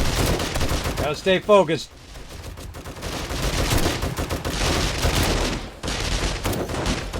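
Defensive turrets fire during a Horde Night in the video game 7 Days to Die, a rapid rattling burst of automatic gunfire that runs almost continuously, with someone talking briefly over it early on.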